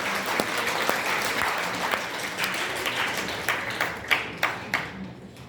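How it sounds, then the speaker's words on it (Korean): Applause from a crowd at a book launch for a political candidate in a Seoul convention hall, a thick wash of clapping that thins into a few louder, separate claps near the end. "박수 보내주십시오"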